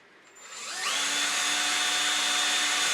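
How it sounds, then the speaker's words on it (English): Power drill boring a nesting hole with a 1/4 inch or slightly larger bit into a small wooden turned bird house; the motor whines up to speed within a second and holds a steady, close, loud drone. "Your drill bit for this opening nesting hole, could be 1/4 inch"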